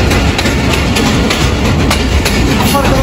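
A Pakistan Railways passenger train rolls along the track with a loud, constant rumble and rhythmic clicking of wheels over rail joints, heard from on board and filling the whole stretch.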